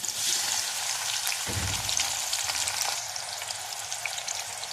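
Green onion and large chopped tomatoes fry in a pan, producing a steady close sizzling hiss with a soft thump as the tomatoes drop in, no talking.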